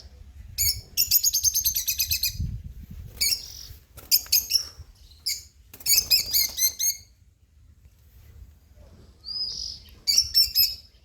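Bright, rapid bird chirps in repeated bursts, clear and fairly close, separated by short quiet gaps over a faint low rumble.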